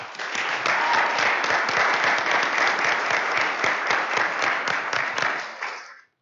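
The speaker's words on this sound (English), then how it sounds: "I'd like to just give the parents a round of applause for being here tonight." Room full of people at a board of directors meeting gives a round of applause, a dense, steady clapping of many hands that holds evenly and then stops abruptly.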